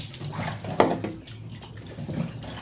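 Chicken liver is washed with water, giving soft splashing and sloshing with a single louder splash, faint and close in a short stretch.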